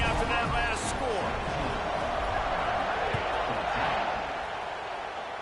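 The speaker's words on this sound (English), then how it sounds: "this crowd is buzzing after that last score" A stadium crowd in the Blitz football video game on PS5 keeps up a dense, steady roar with scattered thumps, loud throughout and easing slightly at the end, with commentary over it.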